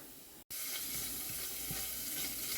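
Chopped chicken skin frying as its fat renders makes a steady, close hiss of bubbling grease, cut by a brief gap near the start, with faint stirring.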